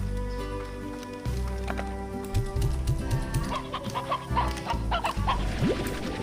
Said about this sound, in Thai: อ๋อ นี่ไง รู้แล้ว เป็นไก่นี่เอง